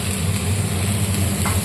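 Bay leaf, dried chilli, panch phoron, hing and ginger-fennel paste fry in hot oil, a loud, dense and continuous close sizzle that stays steady throughout with no talking.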